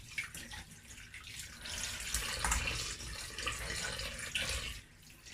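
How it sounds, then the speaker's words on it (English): Running tap water pours steadily over seafood being rinsed in a sink, a continuous close splashing hiss with no talk, lasting about five seconds. "So I'm just rinsing everything."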